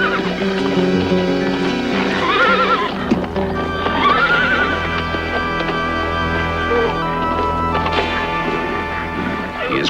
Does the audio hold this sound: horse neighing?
yes